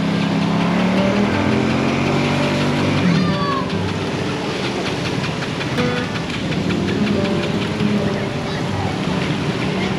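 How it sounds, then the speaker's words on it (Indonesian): Fast floodwater rushing through a flooded residential neighborhood in Kampung Gabus after a night of heavy rain, a steady broadband roar filling the scene, with people talking over it. "airnya deras banget di sini"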